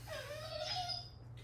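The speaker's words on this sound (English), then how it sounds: "the dog is whining" A dog whines in a high, drawn-out tone that rises and wavers for about a second and a half, faint and indoors, over a steady low hum.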